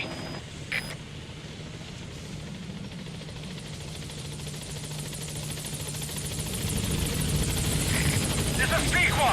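A support helicopter in Metal Gear Solid V approaches a landing zone, its rotor thrum growing steadily louder and closer. A radio voice speaks briefly near the start, and other game sounds come in near the end.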